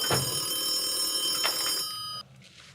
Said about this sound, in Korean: 근데 너 전화 오는 것 같은데?